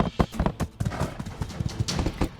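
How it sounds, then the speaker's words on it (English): Horse hooves clip-clopping in a quick, steady riding rhythm from the video game My Time At Sandrock, close and clear with no talking. "she will get on the horse and ride with us"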